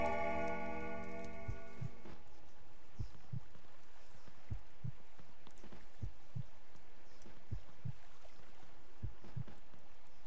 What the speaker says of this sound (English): I can only hear heartbeats